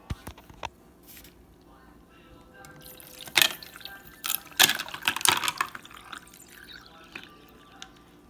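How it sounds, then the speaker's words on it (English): Cold coffee pours and drips over ice in short bursts, with a few louder splashy clinks midway, close by and fairly quiet overall. "Our coffee feels cold now, so I'm just gonna go ahead and pour that in here."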